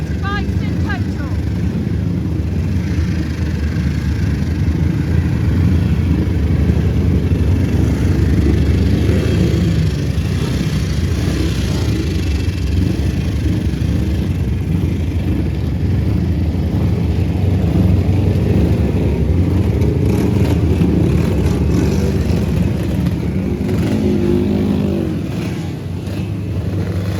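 Racing motorcycles on a full grid of thirty bikes at the Pre-TT Classic in Castletown, Isle of Man, rumble and rev in a steady dense engine roar that continues throughout.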